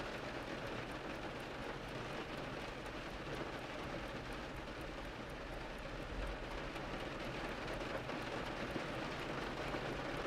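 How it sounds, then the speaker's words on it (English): Rain rushing down outside, heard from indoors as a dense, even hiss of falling water that stays unbroken for about ten seconds, with no voices. "There's something so comforting about pottering around in here while the rain is rushing down outside."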